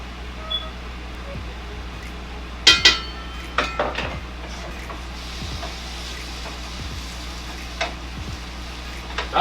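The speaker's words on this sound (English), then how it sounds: "just gonna let it keep frying on low" Lamb shanks sizzle softly in a pan on low heat beneath low background noise, with a few sharp clinks and scrapes of utensils against the pan.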